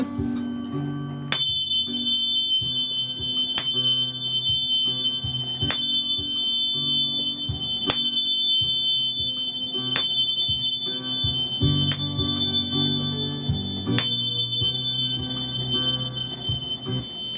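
A Solfeggio tuning fork in G holds a steady, clear high ring throughout, over gentle low tonal pads. Sharp bell-like strikes recur every couple of seconds, and there is no talk.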